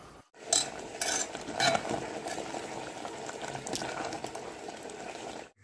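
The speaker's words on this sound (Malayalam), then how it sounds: "ഇനി നമുക്ക് തേങ്ങ അരപ്പും കൂടെ ഒഴിച്ചിട്ട് ഒന്ന് തിളപ്പിക്കണമല്ലോ" A pot of mixed vegetable curry with coconut paste bubbles at a steady low boil, with a few spoon clinks and stirring near the start under the soft continuous simmer.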